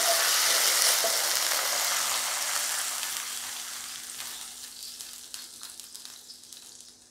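A prawn and drumstick curry sizzles loudly in a pan while being stirred, and the crackling hiss gradually settles and fades to scattered softer pops over several seconds.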